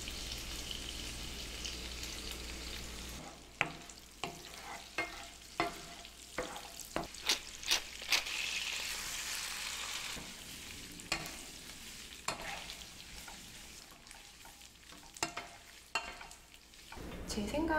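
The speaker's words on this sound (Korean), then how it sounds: "이제 여기다가 고추기름 넣고 더 볶아줄게요" Pasta stir-fried in a pan with chili oil, with a steady soft sizzle broken by sharp clacks and scrapes of a utensil against the pan, close and clear with no talking.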